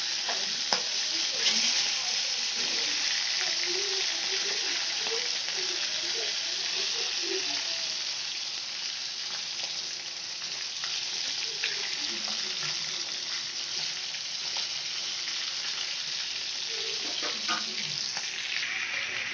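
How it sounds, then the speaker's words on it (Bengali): Rohu fish pieces fry in hot oil for a Durga Puja rohu kosha, giving a continuous loud sizzle with occasional small pops and crackles and no talk over it. "মাছের আমার ওই পিঠটা ভাজা হয়ে গেছে। এবার আমি আস্তে আস্তে করে উল্টে দিয়ে ওই পিঠটাও ভেজে নেব।"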